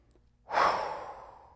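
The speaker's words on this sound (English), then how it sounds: "you must breathe in" One slow, audible breath drawn in close to the microphone, rising quickly and tapering off over about a second, alone without speech.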